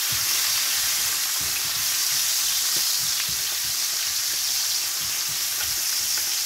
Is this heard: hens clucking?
no